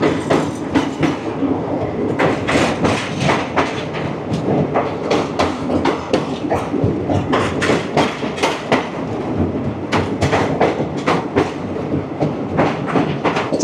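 An Agartala–Bengaluru Humsafar Express passes loud and close in a continuous roar, its wheels beating out a fast, rhythmic clickety-clack over the rails.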